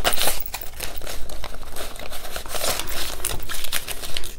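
Paper cash and budget envelopes crinkle and rustle continuously as bills are handled and stuffed, close up and fairly loud, with no talking.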